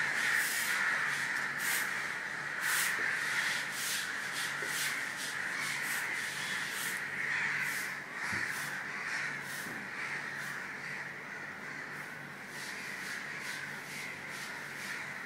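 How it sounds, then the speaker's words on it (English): Many crows caw repeatedly on a morning, a dense overlapping chorus of harsh calls at moderate distance over a steady rushing background, with no talking. "Oh, it's all these birds."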